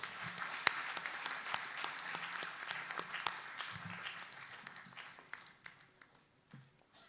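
Audience applause at a technology conference welcoming the chief guest to the stage, moderately distant, with sharp individual claps that thin out and fade to near silence.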